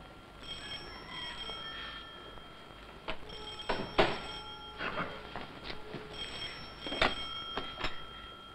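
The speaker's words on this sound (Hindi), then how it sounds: "जा देख पालिके, शायद तेरे कमरे का फोन बज रहा है।" An old landline telephone rings indoors in a 1962 Hindi film scene, with repeated bright bell bursts at uneven intervals, moderately loud and alone, carried over soft background music.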